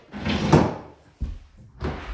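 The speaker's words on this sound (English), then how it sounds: "will this door open?" A wooden cabin door in an off-grid cabin is pulled open, giving a broad creaking scrape that swells then fades, followed by two short knocks and thuds nearby.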